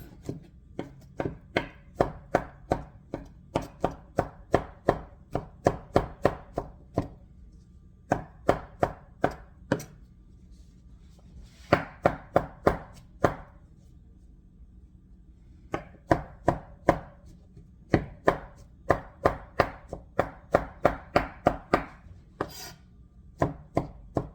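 A knife chops ingredients for mushroom and meatball paella on a board in rapid rhythmic bursts of crisp close thuds, each run about a second or two long with short pauses between, without any voices.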